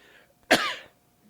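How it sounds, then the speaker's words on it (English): A single dry cough, short and close, standing alone against a quiet background. "Sorry, I have a dry cough."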